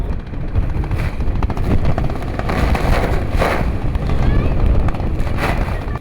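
Strong wind buffets a sailing boat at sea as the crew lowers the mainsail, a loud, continuous broadband roar with gusty surges and flapping rigging throughout.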